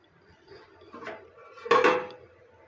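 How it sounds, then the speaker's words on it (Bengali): A spoon stirs batter of rice flour and maida in a bowl for patishapta pitha. It gives a few soft scrapes and clinks against the bowl, close and fairly quiet, with the last stroke the loudest and no talking. "এইটা চালের গুঁড়ো আর ময়দার মধ্যে ভালো করে মেখে আর কি একটা ব্যাটার তৈরি করে নেব। এভাবে আস্তে আস্তে ঘুরিয়ে ঘুরিয়ে"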